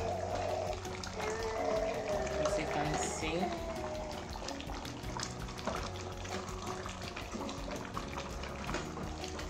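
Bitterleaf soup bubbling in a cooking pot, a steady wet simmering burble heard close up, with people talking over it.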